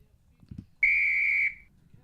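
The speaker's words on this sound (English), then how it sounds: "Got a little whistle jumping in there." Referee's whistle in a Juventus vs Atalanta football match, one clear sustained blast of under a second, loud and alone after a brief low murmur.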